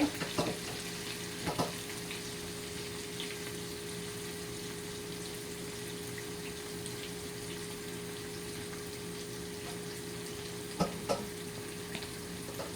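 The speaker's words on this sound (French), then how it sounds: "Je remue." A spoon stirs a spinach and shrimp stew in a pot over steady, quiet sizzling, with a few soft scrapes and knocks near the start and end. No one speaks.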